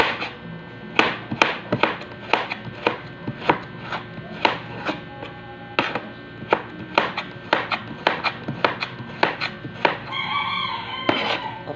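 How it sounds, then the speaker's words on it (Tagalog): A knife chops the edge pieces of vegetables for chop suey on a board in sharp, irregular knocks, close and loud. A rooster crows in the background near the end. "Yan, yung mga gilid-gilid ng chop suey, talagang ito ay hiwain mo pa to"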